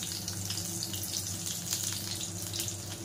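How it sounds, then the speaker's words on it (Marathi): Garlic sizzles in hot oil in a wok, a continuous bright crackle over a low, steady hum, with no voices. "त्याच्यामध्ये आता आपण लसूण घालूया"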